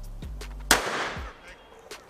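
A .357 revolver fired into a row of chickens as a shooting test: one sharp, loud gunshot crack with a brief ringing decay, set amid low outdoor background hum.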